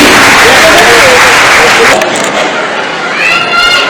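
An audience bursts into loud applause at a commemoration of the first Samadhi day of Acharya Shri 108 Vidyasagar Ji Maharaj, a dense wash of clapping with a voice talking over it.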